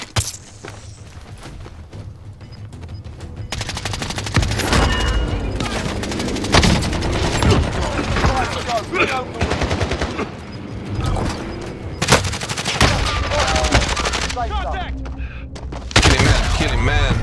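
Repeated rattling gunfire and bursts in a Warzone match, some close and loud, others more distant, with a player talking over the shooting throughout.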